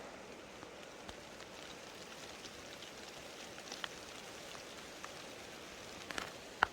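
Steady rain falls and patters on a ridge above the French Broad River on the Appalachian Trail, a constant hiss with wind, punctuated by occasional louder drops nearby.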